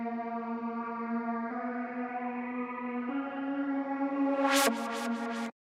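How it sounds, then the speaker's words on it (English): Sustained atmospheric synth pads layered in an acid trance track, holding steady chords that shift pitch every second and a half, joined near the end by a loud filtered sweep and rhythmic swells before cutting off abruptly. "the both pads together deliver that atmospheric sound in the track"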